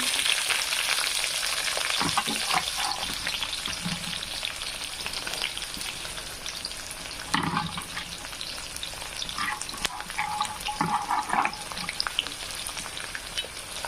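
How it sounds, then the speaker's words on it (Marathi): Onion sautéing in hot oil in a pan for veg pulao: a steady, close, loud sizzle runs throughout, with occasional spoon scrapes and stirring clatters. "तर कांदा पण छान आपल्याला असा लालसर होईपर्यंत परतून घ्यायचा आहे"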